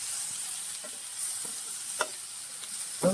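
Ivy gourd frying with spices and green chili in a pan, a steady soft sizzle broken by a few sharp scrapes and taps of a spoon as it is stirred.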